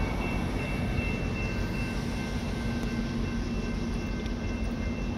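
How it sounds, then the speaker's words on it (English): Train running along the Santa Cruz beach boardwalk, heard from up on a hill as a steady, continuous rumble and rail hum, moderately loud and unbroken, with no talking. "There is the train, we're up on the hill."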